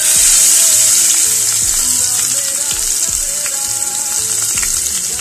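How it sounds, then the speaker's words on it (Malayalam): Onion, green chili, garlic, ginger and curry leaves crackle in hot oil for a beef cutlet recipe, a loud, dense, continuous sizzle close up, with faint stirring scrapes underneath. "അപ്പം നമ്മുടെ ഓയിൽ ചൂടായി വന്നിട്ടുണ്ട് അപ്പം നമുക്ക് അതിലോട്ട് ഈ മൊത്തം സാധനങ്ങളും മല്ലിയില ഒഴിക ബാക്കിയുള്ള പച്ചമുളക് വെളുത്തുള്ളി ഇഞ്ചി കറിവേപ്പില ഉള്ളി"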